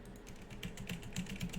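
Keys clatter on a computer keyboard while a search term is entered into a Vue JS search filter field, a steady run of soft, close clicks with no voices.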